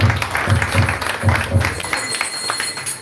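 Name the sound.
round of applause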